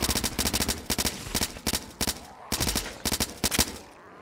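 Submachine gun fire from the zombie shooter game Blood Waves comes in quick, close, loud bursts of rapid shots, with about seven short volleys separated by brief pauses.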